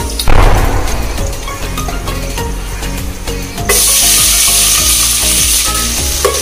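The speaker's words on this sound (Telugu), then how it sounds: "ఉల్లిపాయ ముక్కలు వేసుకున్నాక అవి బ్రౌన్ కలర్ వచ్చినంత వరకు మనం ఫ్రై చేసుకోవాలి" Chopped onions frying in a pan for paneer tikka biryani, a loud hissing sizzle that swells midway and stays steady, with music and occasional clatters underneath.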